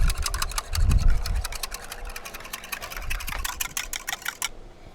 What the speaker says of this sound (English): crack 2 eggs right there and right here. We're going to whisk them together